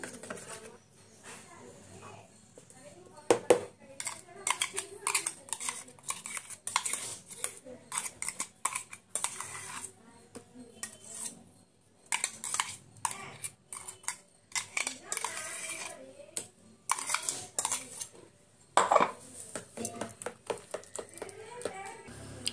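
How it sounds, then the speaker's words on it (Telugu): Utensil clinks and scrapes while curry is stirred into a coconut yogurt chutney, with irregular sharp taps and scraping strokes against the bowl in close, moderately loud bursts. "ఇప్పుడు కూర వేసుకుందాం అండి. కూర కలపాలండి."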